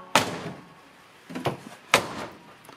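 Front-loading washing machine door shut with a sharp thunk after soap goes into the drawer, followed by a softer knock and a second firm thud, close and loud with quiet between.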